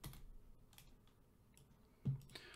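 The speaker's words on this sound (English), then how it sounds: "You press Ctrl E on your keyboard." Ctrl E pressed on a computer keyboard, a few faint scattered key clicks with one slightly louder tap near the end, quiet and close.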